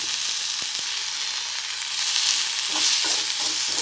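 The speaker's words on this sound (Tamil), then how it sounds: "இப்போ உப்பு மட்டும் ஆட் பண்ணியிருக்கேன் இலைகள் கொஞ்சம் நல்லா வதங்கிறதுக்காக." Kuppaimeni leaves sautéing with salt in a pan for a thuvaiyal, a steady close sizzle and frying hiss with a few soft stirring scrapes, no talking.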